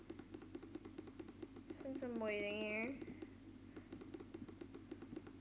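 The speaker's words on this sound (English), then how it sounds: "You probably hear me typing." Light keyboard typing on a computer keyboard, soft rapid clicks ticking steadily through the whole stretch beneath a voice talking close by.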